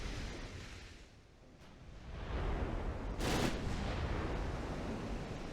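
Battleship guns firing in Ultimate Admiral: Dreadnoughts, a low rumbling roar that swells midway with one sharp loud blast near the middle, followed by a sustained booming wash, no talk.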